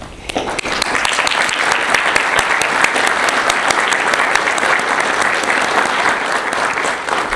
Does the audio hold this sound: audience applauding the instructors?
yes